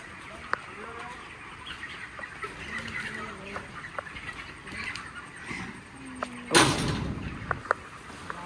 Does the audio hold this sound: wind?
no